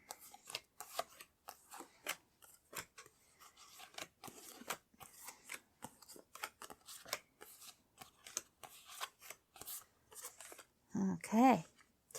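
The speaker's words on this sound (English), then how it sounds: "I'm just gonna put the cards out." Tarot and oracle cards are laid out one by one on a table: a quiet series of soft slaps, shuffles and rubs at an uneven pace, ending in a louder rustling burst.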